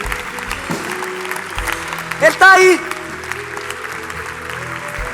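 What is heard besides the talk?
church congregation applauding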